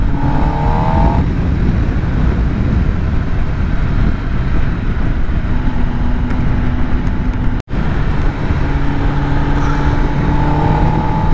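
A Kawasaki ZX10R four-cylinder sport bike runs at speed, its engine a loud, steady drone under heavy wind roar, with rising whine tones at the start and end and one brief dropout partway through.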